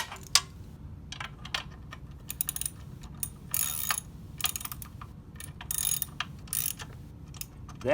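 Quick ratchet clicks from tightening belt bolts, arriving in short irregular bursts with small metallic ticks and clatters between them, close by and with no talking.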